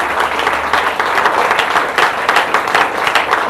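Audience applause at a gathering, dense and loud clapping from many hands, close and continuous for a few seconds with no talk over it.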